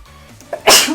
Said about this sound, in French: elle éternue beaucoup trop fort